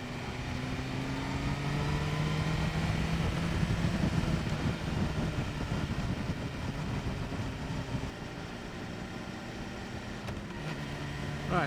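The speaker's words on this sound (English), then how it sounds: "I can just hear behind me that the exhaust, just as I get further up the revs, just sounds beautiful." A 2023 BMW S1000R motorcycle's engine and exhaust while riding, a steady loud drone with rising tonal lines as the revs climb, mixed with wind rush throughout, heard alone without talk.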